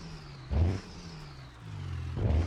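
A cold diesel truck in the BeamNG Drive video game gets two short throttle blips, each a quick surge of engine roar that falls back to a low idle between them.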